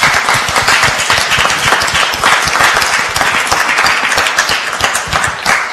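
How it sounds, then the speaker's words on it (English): An audience applauds a startup team at an event, with dense, steady clapping filling the room for the whole stretch at a loud, even level. "I think you deserve a big round of applause."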